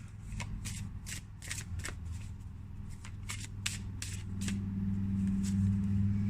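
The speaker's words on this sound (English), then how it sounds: "Let's pull Magical Times Empowerment cards." Magical Times Empowerment oracle cards are shuffled by hand on a table, a steady series of crisp riffling flicks repeating close up over a low continuous background hum, with no one speaking.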